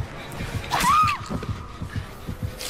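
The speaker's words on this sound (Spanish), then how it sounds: "Escuché el latido del corazón y creí que estaba detrás de mí." The heartbeat of the Dead by Daylight terror radius thumps in an even, rapid rhythm. A louder whooshing cry rises over it near the start, and the beat goes on steadily to the end.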